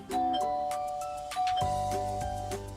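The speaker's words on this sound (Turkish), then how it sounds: "Zili çalalım şöyle." A synthetic two-tone doorbell chime in the video game Talking Tom Hero Dash rings twice in quick succession, bright and clear, with electronic game-style tones sustaining beneath it.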